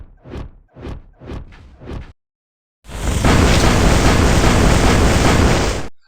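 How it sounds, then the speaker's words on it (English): Four quick whooshing bursts, a short pause, then a loud, sustained roaring crackle of a fire spell in a Diablo remaster video game, holding about three seconds and cutting off. "The crackle of fire spells"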